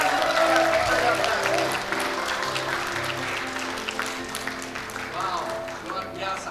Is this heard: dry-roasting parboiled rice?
no